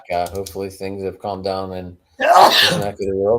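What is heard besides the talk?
sneeze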